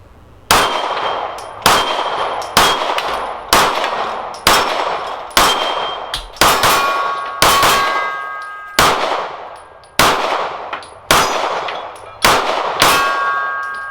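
A Dan Wesson DWX Compact pistol fires shot after shot at a steel plate rack. About a dozen loud, sharp reports each end in a ringing metallic clang, spaced roughly a second apart with occasional short gaps.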